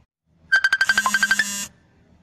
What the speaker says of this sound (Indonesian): iki ana wong telepon